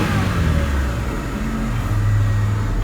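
Idling 1997 Honda Civic with a 1.6 liter engine and 222,925 miles, a steady low rumble with a slight rise in pitch near the end, close and continuous with no talking.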